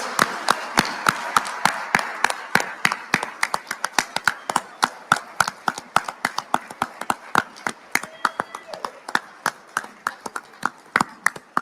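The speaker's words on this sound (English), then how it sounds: "let's give another round of applause to our 2020 and 2021 significant SIGs" A round of applause for fraternity award winners at a Sigma Chi awards event: brisk, evenly spaced claps ring out clearly in a room and continue steadily for several seconds.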